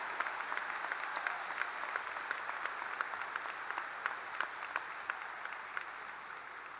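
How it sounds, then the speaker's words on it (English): A large crowd at a high school graduation ceremony applauds steadily, with a continuous wash of clapping and individual sharp claps standing out throughout. "Please join me in one more round of applause for all members of the class"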